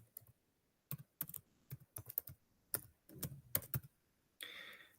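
Fingers tap a computer keyboard in quick, irregular bursts of sharp clicks, close and fairly quiet, pausing briefly between runs of keystrokes, with a short rustle at the end.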